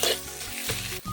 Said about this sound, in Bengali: দিয়ে ভালো করে এরপর নাড়তে থাকবো আর সব কিছু মশলাও একসঙ্গে মিশিয়ে নেব।